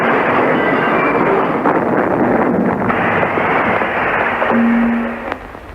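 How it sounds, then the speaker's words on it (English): Radio sound effect of an express train racing along at 90 miles an hour, a loud steady rumble and roar that holds throughout, with a brief whistle-like tone near the end before it eases off. "an express train is racing along at 90 miles an hour"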